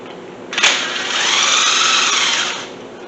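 A power tool spins out a 10 mm bolt from an EGR bracket on a Mustang engine during teardown: one close, loud whirring burst of about two seconds after a sharp click, then winding down.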